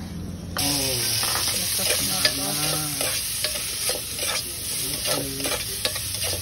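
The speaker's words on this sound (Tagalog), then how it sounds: "Paguman sa mantika, gi-mix na ni na tanan ang kuan." A spiced mixture for bakasi sautés in cooking oil with a close, continuous sizzle, stirred with scraping clicks. Faint voices sound briefly underneath.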